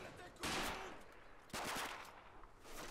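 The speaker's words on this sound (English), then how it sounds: "they get into a close range SMG fight" Submachine gun fire in the Combat Mission: Battle for Normandy video game, with two or three short bursts of rapid shots sounding in a close-range firefight and fairly quiet rumbling between them.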